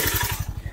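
A motorcycle engine runs steadily nearby with a fast, even chugging pulse. A broad hiss sits on top of the engine note and fades partway through.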